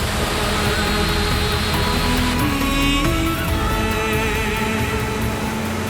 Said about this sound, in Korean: 년이 넘는 세월 동안 쏟아져 온 라인 폭포의 웅장한 힘을 실감합니다